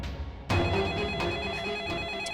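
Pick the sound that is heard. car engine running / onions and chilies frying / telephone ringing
telephone ringing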